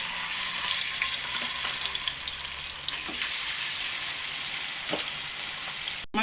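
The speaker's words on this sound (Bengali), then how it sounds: "মাছ কাটা ভাজা হয়ে গেছে" Fish pieces frying in oil make a continuous close sizzle and crackle, with scattered sharp pops and spits, ending in a brief clatter.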